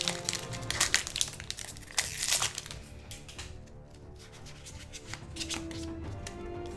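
Packs of Final Fantasy Opus 2 trading cards being torn open, with foil wrappers crinkling and cards riffling in quick close-up bursts that ease into softer handling.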